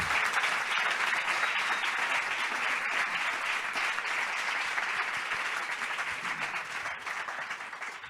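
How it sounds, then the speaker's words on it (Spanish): A studio audience applauds two guests, a journalist and a singer-songwriter, in a sustained dense wave of clapping that holds steady and then slowly thins toward the end. "Un fuerte aplauso"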